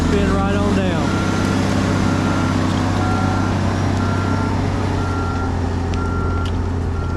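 A landfill compactor drives over trash with a deep, constant diesel drone and repeated reversing beeps, loud and close, while someone talks over the machine noise.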